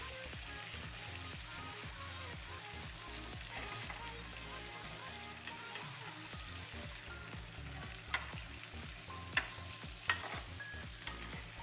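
Tilapia fish pieces fry in a pan with a quiet, continuous crackle and occasional sharper pops and spatters, with no voices.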